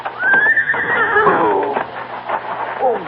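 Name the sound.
horse neighing in a radio drama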